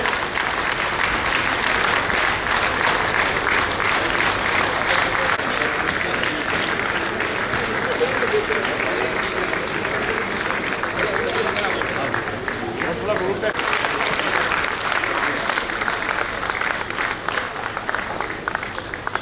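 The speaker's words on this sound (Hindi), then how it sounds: "खड़े होकर इनका स्वागत एक तालियों की जोरदार तालियों से स्वागत करें" A standing audience in a Lions Club assembly hall gives loud, sustained applause, a thick continuous roar of many hands with crowd murmur and some voices mixed in throughout.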